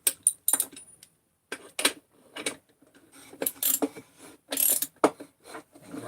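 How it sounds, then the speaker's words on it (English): A ratchet wrench works on a Ratty 394 crankcase in short, sharp bursts of clicking, stopping and starting several times, close and fairly loud with quiet gaps between strokes. "take your ratchet"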